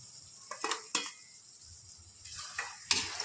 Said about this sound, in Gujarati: હવે આપણે આમાં ટામેટાં નાખીશું.